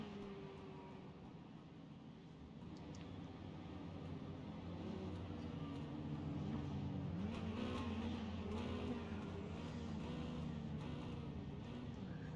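A pack of sixteen race cars circles a short oval speedway, engines droning and revving continuously at a steady roar, with pitch rising and falling as the cars pass through the turns.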